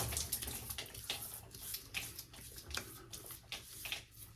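Water splashes softly at a sink as the face is wetted before a double-edge razor shave, making faint, irregular dripping and splashing close by with no talk.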